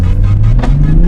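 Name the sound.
2020 Toyota Supra GR turbo engine revving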